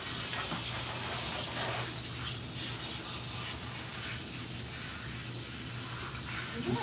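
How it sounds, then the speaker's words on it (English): A water sprayer hosing down a farm animal, a steady broad hiss of spray running without a break for several seconds at close range. "So Tatum, will you grab the sprayer side there and hit her where she's obviously dirty?"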